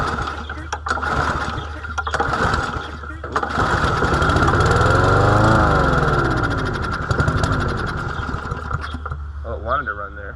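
A small engine cranks and catches, running unevenly and sputtering before settling into a loud, steady idle, then stumbling again near the end.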